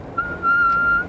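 A single steady whistle-like tone from a signal picked up from the sky, held continuously for about a second after a brief start, clear and alone with no talk.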